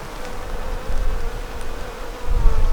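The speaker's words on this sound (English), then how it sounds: "The first thing you notice when you come in is the hum, and there's just bees everywhere." Bees hum all around a wild garden conservation area in a dense, buzzing drone that swells and fades slightly, with no voices.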